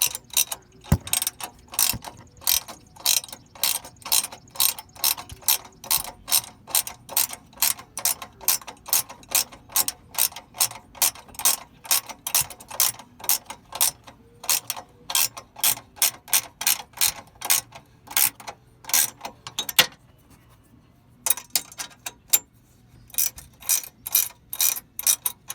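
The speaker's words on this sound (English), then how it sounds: "I just wanted to go with a gear wrench because I like them" A gear wrench ratchets on a bolt behind the lower grille of a Chevy 3500, rapid evenly spaced clicks running in long bursts with a brief pause near the end, close and fairly quiet.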